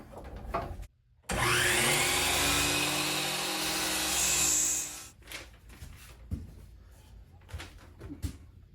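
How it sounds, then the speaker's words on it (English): A miter saw cuts wood for a vanity shelf. After a brief pause, the motor spins up into a loud, sustained whine lasting several seconds, then winds down, followed by quieter clattering and handling noises. "I can cut these on the miter saw"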